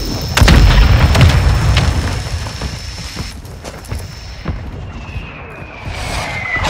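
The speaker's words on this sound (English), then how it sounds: "Mortar strike inbound now." Mortar strike explosions in the Call of Duty video game, a loud deep boom up front followed by rumbling debris and scattered smaller impacts, with faint game voices under it.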